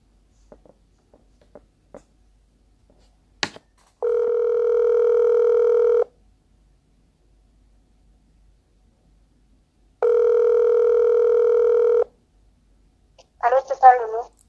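Two long, even telephone ringback tones, each lasting about two seconds and separated by a four-second gap, sound while calling Flora, with faint clicks before them and a brief voice at the end.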